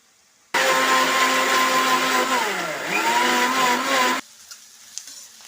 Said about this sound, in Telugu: అది మిక్సీ చేసేస్తున్నాను